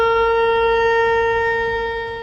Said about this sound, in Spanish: Tequía. Es un sonido como de trompeta